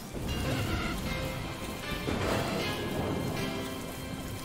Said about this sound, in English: And we're back to rain again!